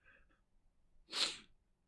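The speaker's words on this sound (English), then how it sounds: "Double sneeze, one for each nostril." A single sharp human sneeze bursts out close and fairly quiet, preceded by a faint breathy intake, in an otherwise hushed room.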